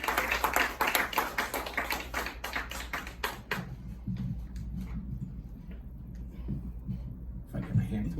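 An audience at a comedy showcase claps, with dense applause for the first few seconds that thins to scattered claps and then fades, followed by someone speaking.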